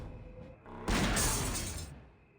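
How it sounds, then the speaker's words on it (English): A gunshot shatters a pane of glass in Grim Fandango Remastered, one loud burst of breaking glass that rings out for about a second before fading against a quiet background. "I shot a new piece of glass."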